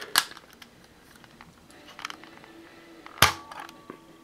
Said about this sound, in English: I'm going to go ahead and just do a dry fire here.